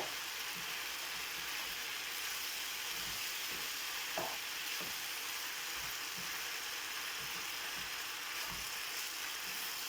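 Pasta with garlic stirred in a hot pan: a constant close sizzle and frying hiss with intermittent scraping strokes, no voices.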